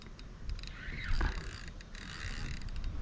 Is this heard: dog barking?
no